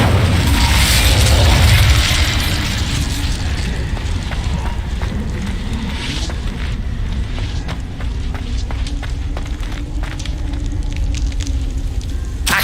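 Incendio fire spell cast in Hogwarts Legacy, a loud whooshing burst of flame at the start that settles into a sustained crackling, roaring fire with scattered pops and mechanical rumbles.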